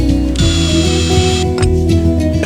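A ratchet tightening bolts on small angle iron brackets for a solar panel mount, giving close, loud clicking pawl strokes in a quick rhythmic series with metallic ringing over steady background hum.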